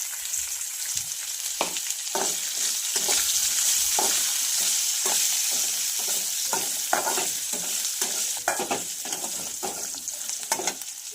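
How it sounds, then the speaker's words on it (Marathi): Green chillies and curry leaves fry with garlic and peanuts for chivda in a pan on low gas, a steady sizzle broken by repeated rhythmic spatula scrapes and stirs, fairly close, with no voices. "हिरवी मिरची घालायची आहे, त्याचबरोबर घालायचा आहे कढीपत्ता आणि छान याला सुद्धा फ्राय करून घ्यायचं आहे"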